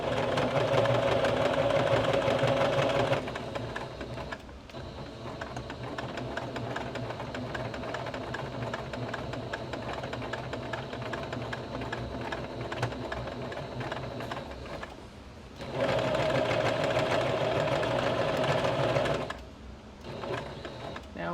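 A sewing machine runs a straight stitch on denim jeans in two bursts of steady, fast, close mechanical whirring with a short pause between, and a softer rattling hum in the longer middle stretch.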